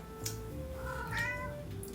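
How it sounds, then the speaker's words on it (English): A house cat meows softly indoors, a single drawn-out tonal call set against a steady low room hum, moderately faint with no talking. "Oh, I think my cat's here."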